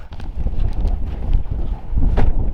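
Steady wind buffeting the microphone in a continuous low roar, gusting louder toward the end, beside an aircraft at Ningaloo Reef.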